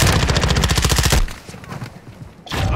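Automatic weapon fire in Call of Duty: Modern Warfare II, a loud rapid burst of evenly spaced shots that stops abruptly, then a brief lull before more gunfire resumes.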